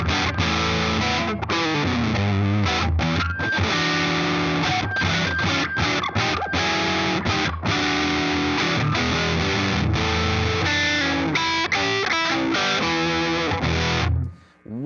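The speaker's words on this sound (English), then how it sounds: "Marshall amp 800 style distortion out of that guy" Electric guitar played through a Marshall 800-style distortion pedal with heavy crunchy distortion, a loud riff of chords and single notes that rings out and cuts off at the end.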